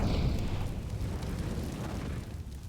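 An incendiary grenade burning in CS:GO on the Mirage map, a loud low roaring whoosh that starts strong and settles into a steady rumbling hiss, with no voices.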